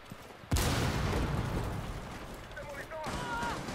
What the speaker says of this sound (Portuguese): que tiro foi esse, mano?